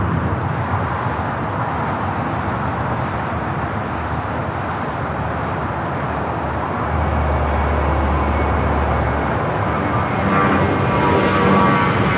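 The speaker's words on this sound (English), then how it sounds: "This is United Airlines 319 taking off to Puerto Vallarta" A United Airlines jet taking off from Los Angeles International Airport for Puerto Vallarta, a steady, loud broadband engine roar that holds for the whole stretch and swells slightly near the end, with no voices over it.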